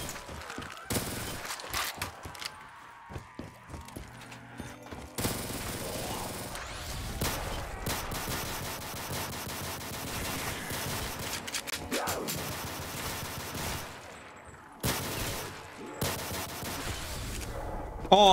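Video game gunfire in a shooter with many weapons: rapid automatic bursts and single shots repeat in dense, loud clusters, with brief quiet gaps between volleys.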